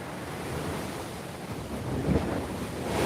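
Ocean waves roll in and crash against a seawall at Waikiki, Hawaii, while wind buffets the microphone. The surf makes a continuous roar that surges louder about two-thirds of the way through.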